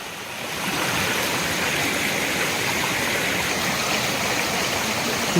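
Raikal waterfall roars as a loud, continuous rush of falling and flowing water, steady and close with no voices above it.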